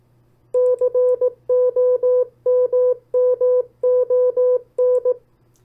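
Morse code CW tones spell out the word "common" in steady, evenly pitched beeps, clean dots and dashes in quick groups repeated across several seconds over a faint low hum.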